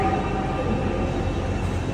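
Trains rumble through London King's Cross railway station in a steady, close, continuous low roar with no distinct horn or clatter standing out.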